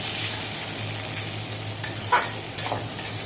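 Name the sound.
bitter gourd frying and being turned in oil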